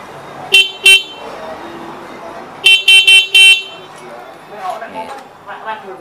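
A Honda Vario scooter horn blares close and loud in two short toots, then a longer run of three or four quick blasts, with someone talking over the quieter gaps.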